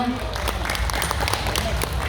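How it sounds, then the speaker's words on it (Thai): An audience at a live stage show at a fruit festival in Lopburi, Thailand claps and cheers for the dancers in a dense wash of applause, with voices mixed into the crowd noise throughout. "ขอเสียงปรบมือให้แดนเซอร์หนูหน่อยได้ไหมคะ"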